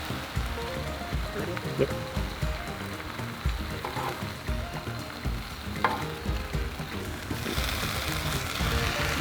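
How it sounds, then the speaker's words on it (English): Ham slices sizzling on a Blackstone griddle, a steady crackling hiss under brief speech, with occasional spatula scrapes and the sizzle swelling louder toward the end. "I'm going to throw our ham slices on the other side of the griddle just to warm them up"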